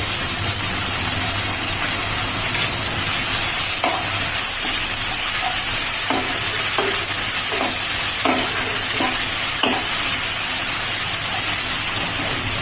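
A spoonful of garlic paste sizzling and frying in oil with eggplant in a pan, a steady close crackling hiss with intermittent scraping clicks of a spoon stirring, no speech.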